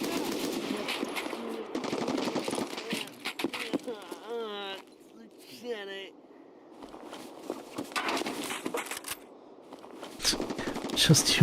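Automatic weapon fire in the video game Escape From Tarkov, rapid loud bursts recurring throughout with brief pauses, mixed with footsteps and someone talking over the action.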